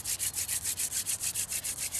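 A wooden stalk is spun by hand in the notch of a hearth board, giving a rhythmic dry rubbing rasp of about a dozen even back-and-forth strokes, close and steady, with no talk.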